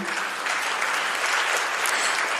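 An audience at the founding event of an international academicians' alliance in Hong Kong applauds steadily for a couple of seconds, a dense, even wash of clapping heard fairly quietly without speech.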